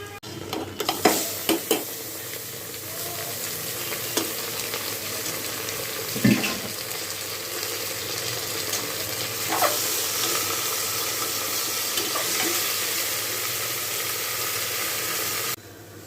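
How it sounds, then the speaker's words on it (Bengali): Onions browning in a pan for haleem give a constant close sizzle, with scattered clinks and scrapes as meat goes in, until the frying stops abruptly near the end. "বাদামি করে ভেজে নেব পেঁয়াজ কিছুটা লাল হয়েছে এবার মাংস দেব"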